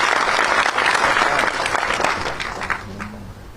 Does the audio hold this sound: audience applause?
yes